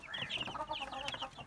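Chickens on a farm cluck in short, rapid bursts, several soft clucks close together over a brief stretch with no other sound.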